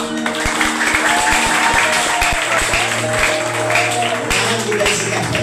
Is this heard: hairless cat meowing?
no